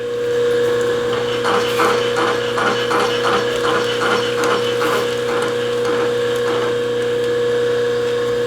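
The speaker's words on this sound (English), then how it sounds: "I'm having to drill these out because I've tried pressing them out and I've tried knocking them out" A drill press in a home garage works at stuck parts that would not press or knock out, its steady motor hum running throughout with a quick series of crunchy cutting bursts in the first several seconds.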